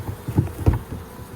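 Honey bees buzz around a divided Hive Hotel beehive, several close low buzzing passes rising and fading over a second or so.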